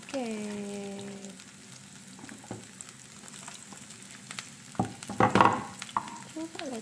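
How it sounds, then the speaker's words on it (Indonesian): Sliced shallots, garlic and chili sizzle in hot oil in a pan, a low steady frying hiss with a few scraping stirs and clatters clustered toward the end. "Minyaknya udah saya panasin, sekarang kita masukin si irisan-irisan bawang merah, bawang putih, cabenya ya."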